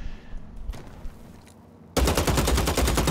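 Gunfire from the video game BloodHunt bursts in abruptly after a quiet stretch, becoming a loud, rapid, continuous stream of close shots that runs to the end.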